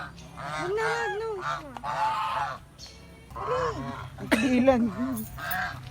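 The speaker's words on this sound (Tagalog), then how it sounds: "Daming duck, no? Wow, daming duck." Ducks at a zoo honk and quack loudly in several bursts of nasal, harmonic calls, close by, with a brief spoken word among them.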